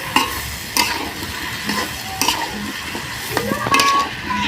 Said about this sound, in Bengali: সবজিটা খুব ভালো করে কষে নেব, একদম যাতে সেদ্ধ হয়ে যায় সেরকম ভাবে